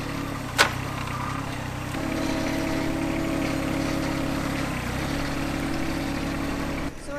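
A tractor engine runs steadily as it is driven, giving a continuous low mechanical drone with a faint whine on top. A brief sharp click sounds near the start and the engine noise drops away at the end.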